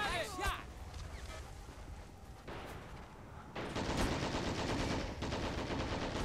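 Gunfire from soldiers in Men of War Assault Squad 2, a war strategy game, with bursts of rapid shots that grow denser and louder in the second half, mixed with battlefield noise and voices.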